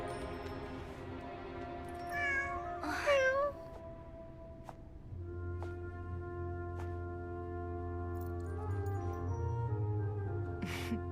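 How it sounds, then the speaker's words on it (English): A cat in the video game Genshin Impact gives one clear, close meow and then a fainter one later, heard against a quiet, sustained game soundtrack. "It's her cat!"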